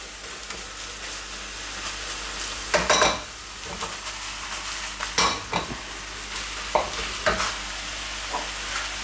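A mixture being stirred after cumin, paprika and salt are added, with a steady background sizzle from the pan and several sharp scraping, clinking strokes of a utensil against the pan, close by, no talking.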